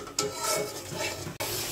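Spice paste with ground coriander being stir-fried for a boal fish and potato tomato curry, a close scraping and rubbing of a spatula against the pan with a soft sizzle underneath, ending in a sharp scrape.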